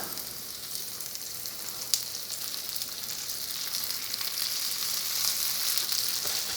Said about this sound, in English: So you want to gently place the tofu on because the oil is very hot.